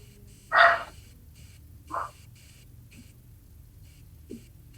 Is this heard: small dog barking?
yes